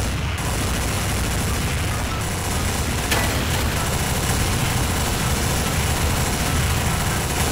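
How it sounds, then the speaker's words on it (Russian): Gunfire in Garry's Mod, a dense, continuous roar of shots and blasts under a steady engine-like drone, loud and unbroken throughout, with no speech. "Да, я стреляю."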